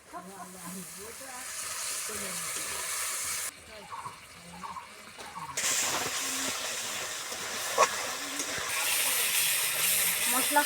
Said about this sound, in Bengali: মশলাটা কষানোর জন্য জল দিয়ে দিচ্ছি